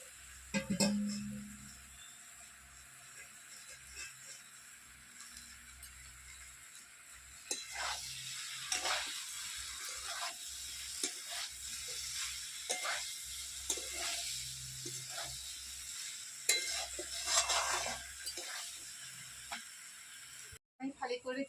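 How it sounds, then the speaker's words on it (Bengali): Potato and green jackfruit being stirred with spices in a pan give a steady sizzle with repeated scraping strokes, louder after the first few seconds, and a faint voice briefly underneath. "আলু ইঁচড় একসঙ্গে দিয়ে আমি মশলার সঙ্গে নাড়াচাড়া করবো"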